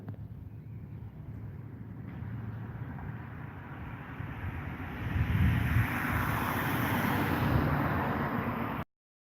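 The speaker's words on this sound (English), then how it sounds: "Oh, jet airliner." A jet airliner passes overhead at sunset, a broad steady roar heard outdoors over wind noise, swelling louder midway and holding before cutting off abruptly.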